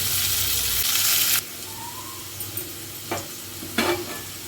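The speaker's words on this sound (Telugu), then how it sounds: "మంచిగా ఫ్రై అవ్వాలండి నూనెలో." Broad hissing sizzle of food frying in oil, loud at first then dropping to a softer steady crackle with a few brief clinks and scrapes.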